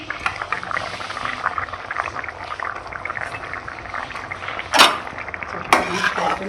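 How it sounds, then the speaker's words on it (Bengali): Fish curry simmers in a pan with a steady bubbling hiss, close and moderately loud, broken near the end by two sharp clinks of utensils against the pan. "এদিকে মাছের তরকারিটা হচ্ছে, মাছগুলো দিয়ে দেবো।"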